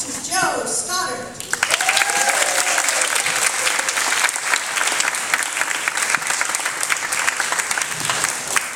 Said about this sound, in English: Please give a big round of applause to Joe Stoddard